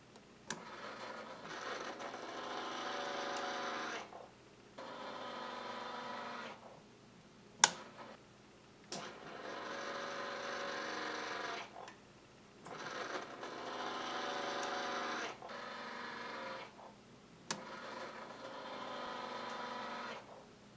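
A Tortoise switch machine motor hums steadily in repeated runs of about two to three seconds, throwing a model railway turnout back and forth, with short pauses and a few sharp clicks between runs, close and fairly quiet.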